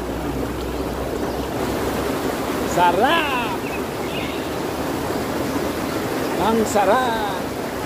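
River water rushing steadily in a broad continuous wash while someone bathes in very cold water, with someone speaking briefly in Filipino over the flow.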